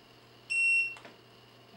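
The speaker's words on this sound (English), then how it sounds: "we're going to press set until we hear it beep" A TST 507 tire pressure monitor gives a single short, bright electronic beep as its set button is held, clear over a low background hum.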